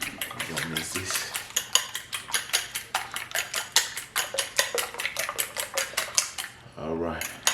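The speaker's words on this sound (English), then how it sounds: "now what I'm going to do, I'm just going to mix this together" Spring roll filling is mixed in a bowl with a utensil, a fast, steady run of close scraping and clicking strokes that continues for several seconds before a short pause.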